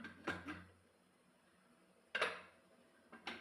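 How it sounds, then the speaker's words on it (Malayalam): A pressure cooker lid is opened after the steam has gone, giving a few faint metallic clanks and clicks in short bursts separated by a quiet pause. "നമുക്ക് കുക്കർ ഒന്ന് തുറന്നു നോക്കാം."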